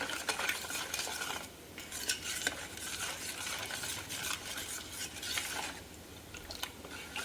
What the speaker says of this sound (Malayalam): എന്നിട്ട് നമുക്കിതൊന്ന് ശരിക്കും ഇളക്കി കൊടുക്കാം.